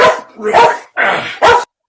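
A dog barks in several short, loud bursts close by, with brief pauses between them and no talk.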